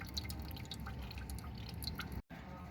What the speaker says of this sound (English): Still draining some out.